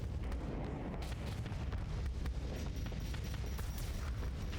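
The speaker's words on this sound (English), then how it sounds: "Oh, poor little Condor got into the front line and got blasted." In a space fleet video game, a small Condor ship takes heavy fire on the front line, giving a dense stretch of rumbling booms and blasts that overlap without pause.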